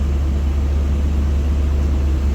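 Chevy C10 square body small block V8 with an Edelbrock carburetor idling after tuning, a steady low rumbling idle, close and even, with no voices.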